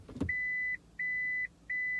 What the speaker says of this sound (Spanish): cuando pones tu palanca en la posición R o de marcha atrás, empiezas a oír un pitido constante como este.